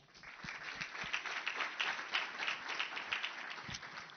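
An audience at an official opening event applauds, a steady wash of many hands clapping at moderate distance, building quickly and continuing evenly for several seconds.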